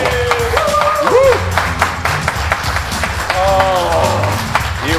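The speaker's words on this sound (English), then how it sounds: "Audience, one more clap." A studio audience clapping and cheering on a talk show, steady applause with whoops running beneath overlapping voices talking and exclaiming.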